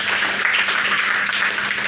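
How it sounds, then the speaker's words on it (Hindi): Audience applause at a school prize ceremony, a steady, dense clapping from a crowd that fills the whole short clip without a break. "ताली बजाओ"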